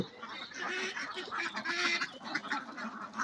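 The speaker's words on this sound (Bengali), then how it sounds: "শত শত হাঁস, এই যে হাঁসের ঘর" Hundreds of ducks quack and honk together outside a duck house on a village farm, a close, overlapping chorus of nasal calls rising and falling without pause.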